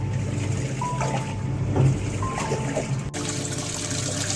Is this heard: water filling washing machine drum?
yes